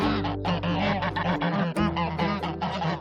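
Geese honk loudly and close by in a busy overlapping chorus of harsh nasal calls, with a steady low hum running underneath.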